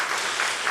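A church congregation applauds during a children's Sunday service. The clapping is a brief, dense patter from many hands that fills the room and does not stop during this short moment.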